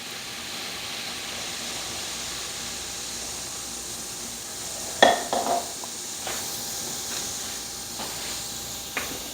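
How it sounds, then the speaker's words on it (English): Water fizzes with Iron Out added, a steady bubbling hiss broken by a few sharp clinks of kitchenware partway through. "Already getting a fizz from the water."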